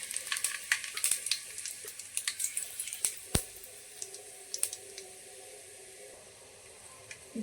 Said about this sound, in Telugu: ఇప్పుడు ఆయిల్ హీట్ అయిపోయింది. ఇందులోకి మనం ముందుగానే సాజీరా, లవంగాలు, చెక్క, ఇలాచి, బిర్యానీ ఆకు ఇవన్నీ ఇందులో వేసేసుకోవాలి